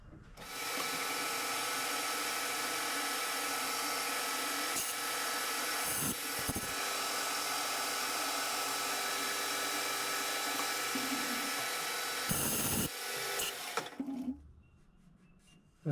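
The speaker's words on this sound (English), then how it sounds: "I'll just take a little light skin pass" Metal lathe taking a light skin pass cut while machining a spider fixture, a steady, loud, broadband machining whine holding for about fourteen seconds with a few brief knocks, then winding down.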